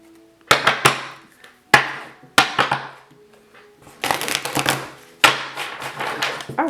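Cards or crystals being shuffled for a pick-a-crystal reading: several sharp clacking bursts with brief rustling tails, spaced irregularly, then a denser run of clattering shuffles toward the end.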